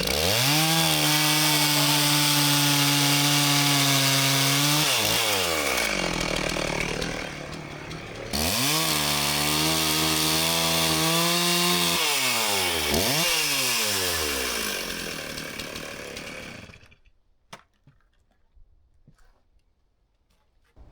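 A chainsaw cutting firewood for home heating, loud and close, revving and bogging in long steady passes through the wood before cutting off and falling quiet near the end.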